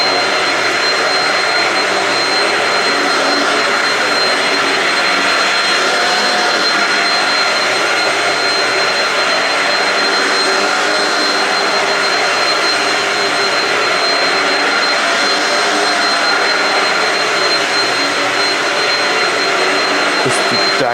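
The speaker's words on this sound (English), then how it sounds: "This vacuum is doing a really good job." A vacuum cleaner runs in a resort room continuously at a loud, steady drone with a thin high whine, no pauses throughout.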